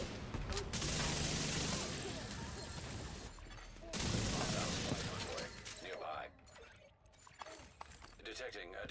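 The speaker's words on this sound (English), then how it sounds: "Just dodging these bombs." Bomb blasts in The Division 2 video game: loud, harsh bursts of explosive noise with crackling debris, two big surges followed by sparser metallic clatter and fading rumble.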